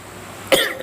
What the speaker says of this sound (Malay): Batuk sat tuan-tuan tu.